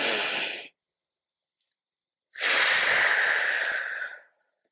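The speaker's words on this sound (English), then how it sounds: "Take a deep breath and breathe." A deep breath during a calming talk: a long audible inhale, a pause of silence, then a longer slow exhale, close and soft with no talk over it.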